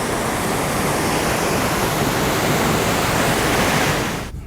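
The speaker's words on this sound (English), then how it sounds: "the water's just gushing over the top of the lock gate" Water gushes over the top of an overfilled canal lock gate on the Great Glen Way, a loud, steady broadband roar of pouring water that holds constant nearby before cutting off at the very end.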